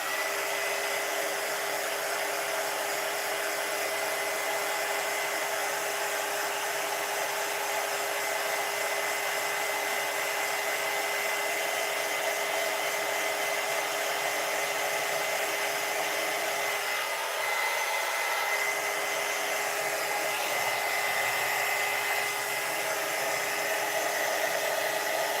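A hair dryer blows continuously and loudly for the whole stretch, a steady whooshing drone with only slight shifts in tone as it moves.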